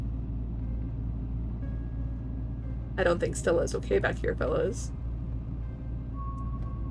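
A squad car's low, steady engine rumble while driving in the video game Scarlet Hollow, a continuous drone beneath a brief stretch of spoken dialogue.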